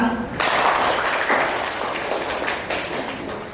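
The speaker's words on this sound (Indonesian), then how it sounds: "Tepuk tangan." Applause from a classroom audience after a student presentation, a burst of many hands clapping that starts abruptly and continues steadily at moderate loudness, fairly close, with slight fading toward the end.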